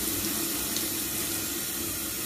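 A tap runs cold water steadily into a pot in a kitchen, a loud, close, even hiss and splash with no break and no voices.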